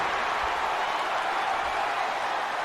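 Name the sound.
wrestling crowd cheering in Chicago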